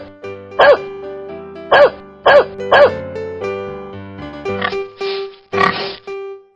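A dog barks in four sharp, evenly spaced yaps over a steady musical backing, each bark loud and close; children's animal-sound animation setting, followed by a couple of softer, breathier animal calls near the end.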